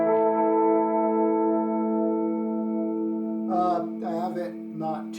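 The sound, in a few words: electric guitar through chorus effect pedal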